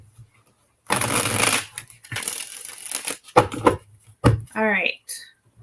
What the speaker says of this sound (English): Let me get them all shuffled here.